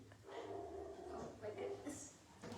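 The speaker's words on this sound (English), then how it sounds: "What's she barking at?" A dog barks in short bursts indoors, mixed under ongoing chatter from several people nearby; the barks are moderate in loudness and partly masked by the voices.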